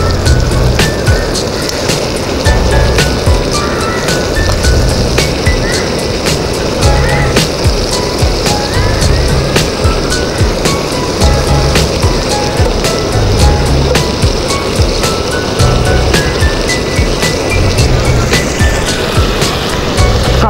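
Washed quail pieces fry in a pan with softened tomatoes, giving a loud, steady sizzle that runs unbroken throughout, with faint clicks of stirring on top.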